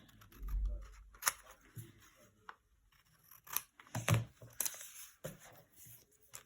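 Scissors snip through poorly glued paper scraps in a few separate close cuts, with rustling and handling noises between them and no talking.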